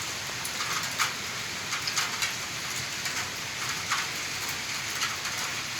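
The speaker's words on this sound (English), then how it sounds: "It's raining" Heavy rain pours steadily outdoors near buildings and a children's playground, a dense, continuous hiss with scattered louder drop spatters, close and without talk.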